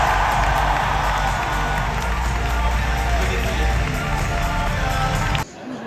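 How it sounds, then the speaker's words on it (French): Loud, dense crowd applause and cheering fill a live drag show audience in Strasbourg, sustained and close before cutting off abruptly near the end. "un tonnerre d'applaudissements pour l'artiste numéro 2"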